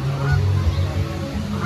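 A goose honks loudly and close by at Adventure Port at Kings Island, with a short cluster of nasal calls over outdoor ambient noise.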